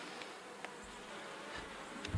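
Honeybees at a beehive during a hot-weather inspection make a continuous low buzz, with a few individual bees droning briefly past nearby.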